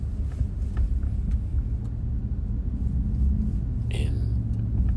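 A car driving slowly into a parking lot, a low steady engine rumble and road noise heard from inside the vehicle, with faint speech over it.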